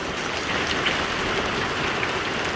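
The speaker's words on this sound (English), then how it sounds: "I've seen hail, not this big." Marble-size hail falling in a crazy storm, a dense continuous clatter and hiss of stones striking surfaces, loud and close with no pauses.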